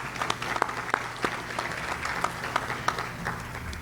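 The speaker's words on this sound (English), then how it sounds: "give them a round of applause." Audience applause rolls through a Chamber of Commerce monthly luncheon, a steady moderate clatter of many hands with a few sharper claps standing out near the room's background hum.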